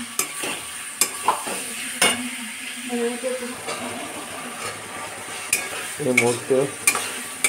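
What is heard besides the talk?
garlic and onions frying and being stirred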